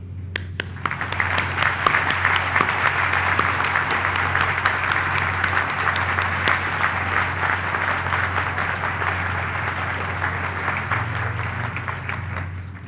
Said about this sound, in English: join me in extending a gracious round of applause